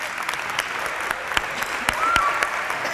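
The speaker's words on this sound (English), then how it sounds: "Let's give them a round of applause as well." Audience applause at a Martin Luther King, Jr. Leadership Academy school celebration, a steady wash of clapping hands from a crowd, moderately loud and sustained, with a faint cheer rising near the end.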